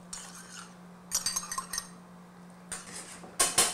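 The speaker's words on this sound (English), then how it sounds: "we're gonna stir up our slurry to reconstitute it and add it in there" A utensil clinks and scrapes against a pan as cornstarch slurry is stirred into a simmering lobster sauce for shrimp, coming in short bursts of metallic clatter between quiet gaps.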